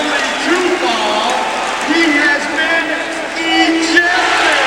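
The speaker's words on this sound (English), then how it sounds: "The crowd responding to the announcement of Bonner's ejection." Home crowd of Miami Heat fans in an arena reacting to the ejection of a Knicks player, Bonner, in a 1995 game against New York, a steady loud roar with rising boos and shouting swells throughout.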